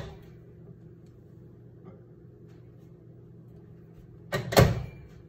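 A microwave door is pulled open in a home kitchen while making buffalo chicken dip, a short sharp clunk after several seconds of quiet room hum.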